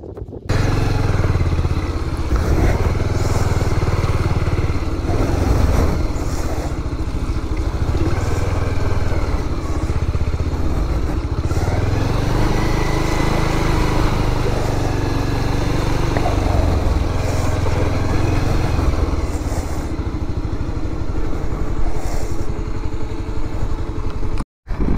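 Motorcycle ridden on a rough off-road track between Gurez and Tulail, its engine loud and close throughout, revving and dipping over bumpy ground with clattering from the bike, no talk.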